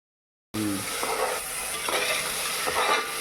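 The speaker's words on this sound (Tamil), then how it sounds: "தக்காளி அது நல்லா வதங்கட்டும்" Tomatoes sauté in a pan for chicken biryani, and after a moment of silence a steady frying sizzle starts, with light stirring scrapes repeating over it.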